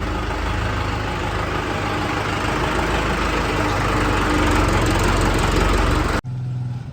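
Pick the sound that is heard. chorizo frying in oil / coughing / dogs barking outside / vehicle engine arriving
vehicle engine arriving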